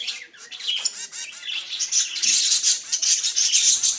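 Pet finches in an aviary fitted with nesting pots chirp and tweet busily, a dense, bright flock chatter that swells and holds steady, close by with no voices.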